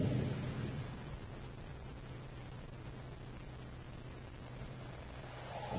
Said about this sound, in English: Just distant thunder.